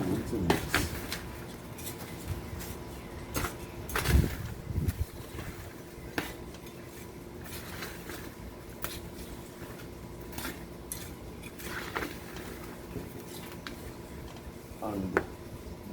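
Potting soil being mixed with cinnamon and Osmocote in a pot, with scattered scraping, clinking and gritty stirring sounds at irregular intervals, close by and fairly quiet.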